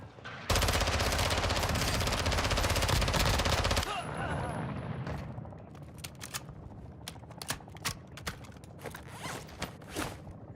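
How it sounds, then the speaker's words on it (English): Call of Duty DMZ combat audio: a loud, dense burst of automatic gunfire for a few seconds, then quieter scattered clicks, rattles and distant shots trailing off. "Somebody's shooting down below."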